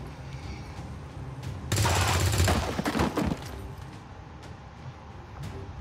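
A burst of gunfire in the video game XCOM 2: a dense rattling volley of shots lasting about two seconds over steady game background sound, then scattered fainter clicks and impacts.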